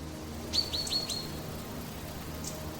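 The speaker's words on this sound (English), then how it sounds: "Birds singing overhead." A few quick high bird chirps in a short run, then one more faint chirp after a pause, over a low steady background hum.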